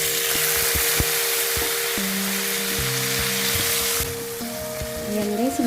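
Tomatoes hit a hot frying pan of sautéed garlic for ginisang ampalaya, sizzling and crackling steadily with faint clinks of stirring, no talk.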